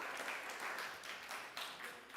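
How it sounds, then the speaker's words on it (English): A church audience claps briefly for helpers who prepared things early, a faint, steady patter of hands lasting about two seconds with no talk over it. "Let's just give them a round of applause"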